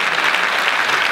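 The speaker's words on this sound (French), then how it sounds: "sous applaudissements" Audience applause greeting a guest at a science festival opening talk, a short even wash of many hands clapping, loud and sustained throughout.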